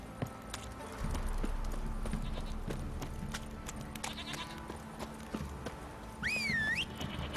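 Rhythmic horse hoof clip-clops trot steadily along in The Witcher 3: Wild Hunt video game, with a brief bleating animal cry near the end, all without talking.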